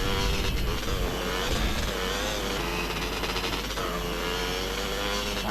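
A stolen car driven in the video game GTA San Andreas, with a steady, loud engine drone and rising revs running without pause and no voices.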